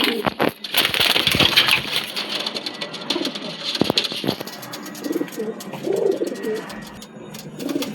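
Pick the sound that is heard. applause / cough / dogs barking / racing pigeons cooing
racing pigeons cooing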